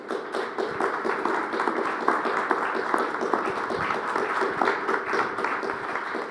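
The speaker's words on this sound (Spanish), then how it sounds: "les pido le puedan brindar un aplauso nuevamente" An audience at a conference on patents and trademarks gives a speaker a round of applause, moderate and somewhat sparse clapping with distinct individual claps, continuing for several seconds.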